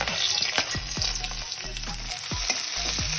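Garlic and bay leaves sizzle and spit in hot oil, with a dense, steady frying crackle and a few sharp clinks of a utensil against the pan, close up and with no voices.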